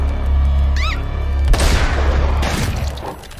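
Cartoon gunshot from the animated series Helluva Boss, a sudden loud blast and crash that follows a brief high squeal and rings out over a steady low hum.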